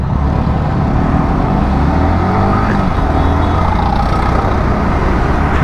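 Loud road traffic heard from a motorcycle ride, a dense continuous roar of engines and tyre noise with wind, steady throughout and no voices.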